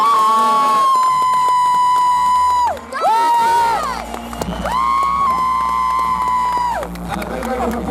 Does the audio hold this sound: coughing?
no